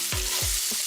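Paneer cubes with tandoori masala sizzle in a pan under two or three quick scraping stirs, a soft, close hiss running throughout with no voices.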